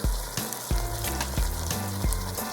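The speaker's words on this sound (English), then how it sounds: "We're going to go ahead and put some lime juice in as well." Lime juice goes into a simmering Caribbean seafood stew, the pot giving a steady loud sizzle broken by a few firm stirring scrapes at a loose, roughly even pace.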